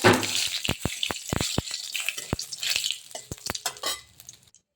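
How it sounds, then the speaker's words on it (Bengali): Dry red chillies, bay leaves and cumin hit hot oil with a bright crackling sizzle punctuated by sharp utensil clacks against the pan, fading out at the end. "তেল গরম হয়ে গেছে দেখুন এবার দিয়ে দিচ্ছি আমি শুকনো লঙ্কা তেজপাতা জিরে একটু এটাকে ভাজা ভাজা করবো"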